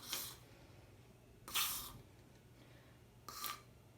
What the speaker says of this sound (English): I just quick added my little spritz of silicone in there